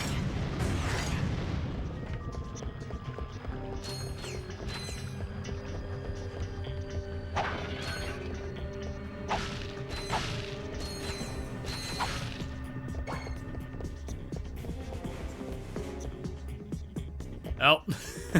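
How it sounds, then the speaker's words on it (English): Rocket launcher fire in the Ratchet & Clank 2 video game, a series of sharp booming blasts amid mechanical clanks and game effects, repeating every few seconds. "Rocket launcher time."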